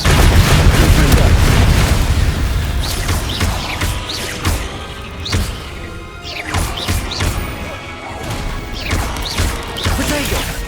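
Confringo fire spell explosions in the Hogwarts Legacy video game make loud booms and crashing bursts one after another, with a heavy rumble at first and then repeated sharp blasts.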